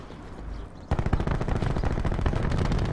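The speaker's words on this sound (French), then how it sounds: "les bruits c'était cool par contre, les bruits d'armes" Rapid automatic weapon fire from the shooter game Black Ops 4 bursts in loud and close after a short quieter lead-in, continuing steadily to the end.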